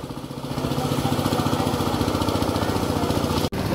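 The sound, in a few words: tractor engine working in a field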